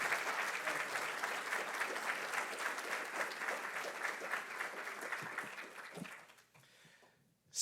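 Audience applause at a passenger rail summit, steady, dense clapping from a seated crowd that fades out near the end.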